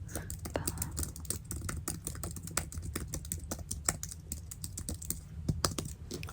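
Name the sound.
writing something down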